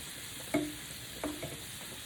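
Garlic dropped into hot olive oil in a pan over low heat gives two brief sizzling bursts a moment apart, each settling into a soft hiss, with no voices.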